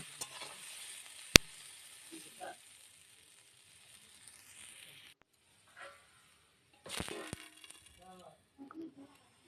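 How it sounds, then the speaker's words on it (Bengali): Papaya frying in a covered pan, lid lifted now and then to stir: faint sizzling with scraping and clinking of a spatula and lid, a sharp metallic knock near the start, intermittent and close. "তবে মাঝে মধ্যে ঢাকনা খুলে এভাবে নেড়ে রাখতে হবে, যাতে নিচে লেগে না যায়"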